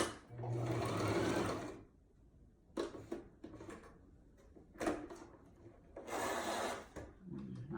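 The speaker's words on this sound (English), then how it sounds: "Just got to make sure it's folded in and that you're sewing both sides." A sewing machine stitches a baby blanket in two loud bursts, at the start and again near the end, with quieter handling and rustling of fabric in between.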